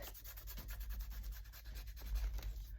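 Paper rubbed along a traced page outline for a mixed media layout: quiet, close, rhythmic scratchy rubbing strokes repeating quickly and evenly, with no voices.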